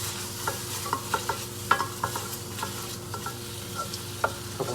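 Chicken hearts and scallions being stir-fried and tossed in a hot wok, a steady sizzle broken by repeated sharp metallic clanks and scrapes of the spatula, close and fairly loud with no talking.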